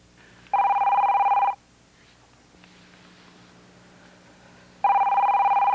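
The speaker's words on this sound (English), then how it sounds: "You gonna get the phone?" A telephone rings in an indoor scene in two loud, steady electronic bursts about a second long. They are separated by a quiet gap of several seconds, with the second ring starting near the end.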